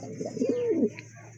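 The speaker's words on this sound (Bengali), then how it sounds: "খুবই সুন্দর এক জোড়া বারহুমা কবুতর" A pair of Barhuma pigeons giving a single close, throaty rolling coo that swells and fades within about a second over quiet background hiss.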